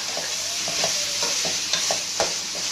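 Bitter gourd and chicken mince being stirred together in a hot pan for a keema karela dish: a steady sizzling hiss with repeated scraping strokes of the spoon, close and fairly loud, with no talking.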